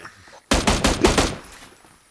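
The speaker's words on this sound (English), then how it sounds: "Warning shots." A loud burst of rapid automatic gunfire from warning shots in PUBG, about three-quarters of a second of clustered shots breaking sharply out of near silence and then trailing off into a fading echo.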